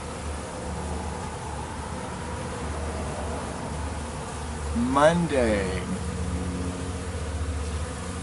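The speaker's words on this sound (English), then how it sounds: "Pampered bees" Pampered honeybees buzzing steadily around the hive on a warm day, a dense continuous drone with one insect sweeping close past the microphone midway, while someone talks briefly over it.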